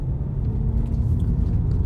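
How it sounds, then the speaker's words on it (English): Hyundai i20N with a CTC Performance exhaust in standard mode, valve closed, giving a muted, steady low exhaust rumble heard from inside the moving car. "There's a little bit of exhaust note without it being too much."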